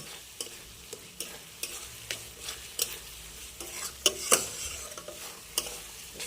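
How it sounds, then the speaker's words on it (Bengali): Masala spice paste fries in oil in a pan, giving a soft continuous sizzle broken by repeated scraping stirs at an irregular rhythm, close and fairly quiet. "মশলাটা কি সুন্দর কষানো হয়ে যাচ্ছে এই যে একাই তেল ছেড়ে দিচ্ছে"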